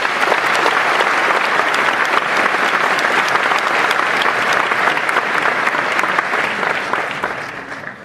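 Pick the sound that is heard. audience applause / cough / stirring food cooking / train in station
audience applause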